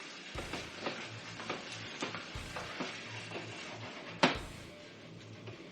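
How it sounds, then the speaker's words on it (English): Cherry tomatoes mixed into a sauce in a pan, soft steady sizzling under rhythmic spoon scrapes, with one sharper knock toward the end. "Now we're going to grab our cherry tomatoes and throw them right on top. Like that. We're going to mix that up again."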